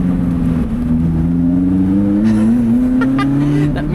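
Lotus Elise engine revving up as the car accelerates along a bumpy road, the rising drone heard from inside the car, loud and close.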